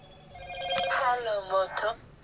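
Phone ringtone in a game session playing a short rising melodic tone pattern, loud and close, about two seconds long.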